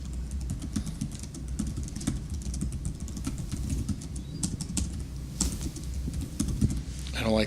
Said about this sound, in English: I don't like the size of this keyboard.